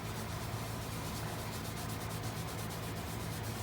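Clear wax being rubbed by hand onto a piece of turned wood, giving a steady, dense friction hiss that runs without a break at close range and with no talking.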